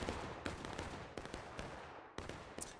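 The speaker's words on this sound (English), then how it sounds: "I think right now HO and CSA is happy to exchange gunfire like this." Distant volleys of musket gunfire in War of Rights, an American Civil War multiplayer game, sharp cracks and rolling reports in irregular bursts, quiet and far off with no talk over them.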